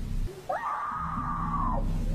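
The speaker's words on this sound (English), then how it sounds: "We have a woman screaming." A woman lets out one high, drawn-out scream lasting over a second after a short rising cry, heard over steady low background rumble.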